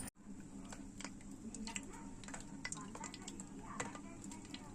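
Whole spices, cinnamon and cardamom, hitting hot oil for a chicken curry give a soft, close crackle and sizzle with scattered light pops throughout.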